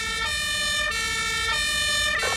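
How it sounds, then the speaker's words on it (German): A loud, steady emergency-vehicle siren (Martinshorn) in the video game Emergency 5, its two-tone wail cycling regularly with road-vehicle rumble beneath and no voices. "Ich weiß nur, dass das Martinshorn auf meinen Ohren zumindest sehr laut ist."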